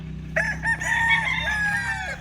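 Chickens crow and cluck close by, a rooster's drawn-out call rising over scattered clucking from the flock.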